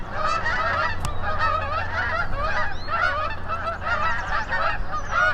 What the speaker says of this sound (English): I've got Canada geese back there. Do you hear them? Just making a racket.